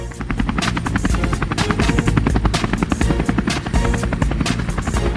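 Rapid, steady rotor blade chopping of a police helicopter, loud and close throughout, with a dense engine whine beneath the rhythmic thumps.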